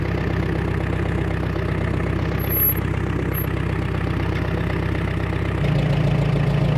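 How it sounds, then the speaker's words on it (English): A tractor engine idles and runs steadily on an off-grid farm, a loud, close, continuous low rumble with a regular knocking pulse that deepens slightly near the end as the load or revs change. "Now let's get the tractor,"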